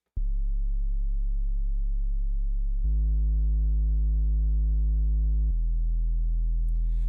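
A deep, sustained 808-style sine bass made in the Serum synth plays three long held notes that shift in pitch, smooth and heavy, with nothing else alongside.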